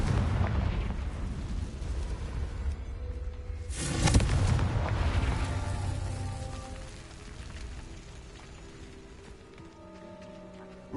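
A Confringo fire spell from Hogwarts Legacy, played on PS5, bursts in a single loud blast about four seconds in, over a rumbling, crackling game background that slowly fades.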